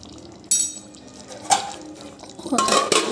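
A spatula scrapes and clatters against a pan while chicken garlic fry is stirred, with a few separate bursts of metal contact near the microphone and no voices.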